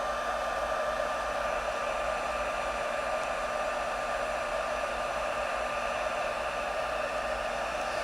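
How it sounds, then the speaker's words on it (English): A heat tool blasts hot air over embossing powder on a Stampin' Up reinker-spread craft piece, a steady, loud fan-driven whoosh with a constant motor hum and no pauses, heard alone. "sometimes when you're heating up embossing powder"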